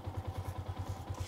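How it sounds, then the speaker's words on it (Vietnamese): A worn Yamaha Exciter 150 motorcycle engine idles close by with an uneven, lumpy beat, its steady low pulses repeating quickly along with light mechanical valve-tappet clatter, with no talk over it. "Chúng ta nghe nó không được tròn nữa và tiếng cam cò nó đang rất là rõ."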